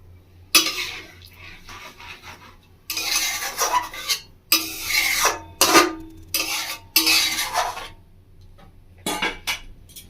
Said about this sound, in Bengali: নিয়ে এবার মাছটাকে আমি হালকা করে একটু নেড়ে নেব